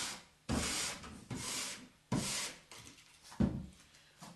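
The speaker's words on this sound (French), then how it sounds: "on brossera bien sûr dans la fibre du bois en appuyant bien" A metal wire brush scrubs firmly along the grain of a wooden surface to rough out soft fibres, four long rasping strokes up close, each starting sharply and fading, with no talking.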